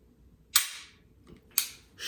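Two crisp metallic clicks from a pistol's single-action trigger, a short clean pull, sounding close and alone with quiet pauses between, and a third click starting at the very end.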